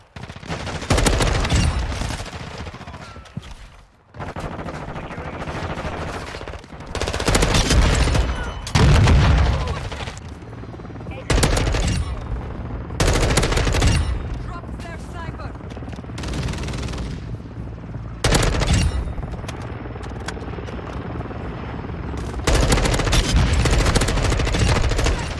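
Gunfire in Call of Duty Modern Warfare, including an M4 rifle, comes in loud bursts of rapid automatic shots and heavy booms, broken by short quiet gaps, with a player's voice talking over the action.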